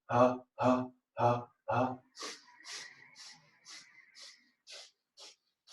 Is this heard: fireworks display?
no